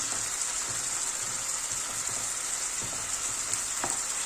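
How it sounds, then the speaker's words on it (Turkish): Ground meat frying in a pan with onion just added, a steady broad sizzle throughout, broken by faint scattered clicks and stirring ticks, close and even, with no voices. "Önce kıymamız kavursun sırasıyla malzemeleri koyacağız. Şimdi soğanımızı atıyoruz."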